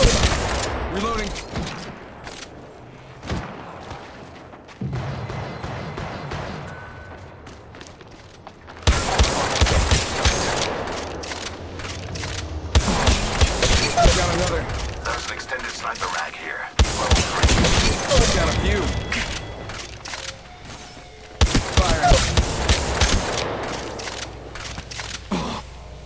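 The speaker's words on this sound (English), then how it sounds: "Shots fired and they're hitting me." Rapid bursts of gunfire from the mobile battle royale game Apex Legends Mobile in a sniper-and-shotgun mode, loud volleys and repeated shots with booms, broken by quieter stretches and in-game voice callouts.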